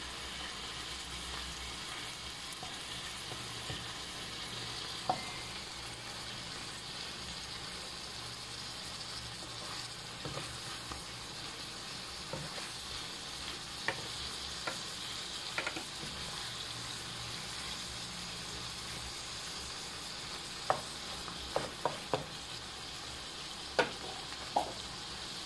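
Shrimp frying in butter in a pan for a buttered shrimp dish, a steady soft sizzle throughout with occasional clinks and scrapes as the pieces are turned.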